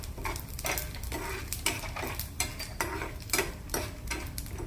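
Mustard seeds and cumin frying on a low flame, with a gentle steady sizzle under rhythmic spoon scrapes against the pan, repeating about every half second.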